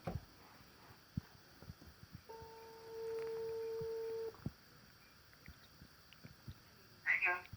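Ringback tone on an outgoing mobile phone call, a single long steady tone heard faintly, with quiet background noise and short sounds around it.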